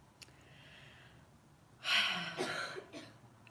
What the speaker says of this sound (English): See, we're all coughing.